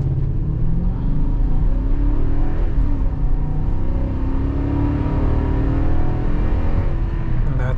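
A 2008 Toyota Sequoia SUV accelerates hard in a 0 to 60 test, its engine rumbling loud and close with rising revs and gear changes over several seconds.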